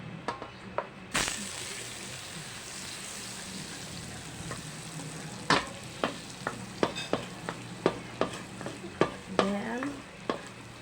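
Butter melts and sizzles in a pan on a stove, a steady frying hiss broken by sharp clicks and scraping knocks as it is stirred, no voices heard.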